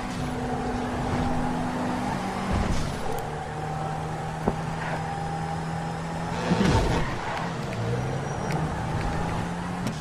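A car driving in the video game GTA 5, its steady engine hum holding under light game ambience, with shifting pitch as it speeds up and turns, plus a couple of brief bumps.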